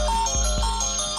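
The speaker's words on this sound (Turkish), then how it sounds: "Şu an alarmı ötüyor." Phone alarm ringing: a loud, close electronic tone with a steady repeating beat that runs through the whole clip.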